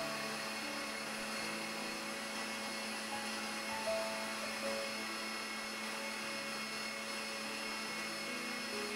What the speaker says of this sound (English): Beat with wire whisk at high speed for 30 seconds until foamy.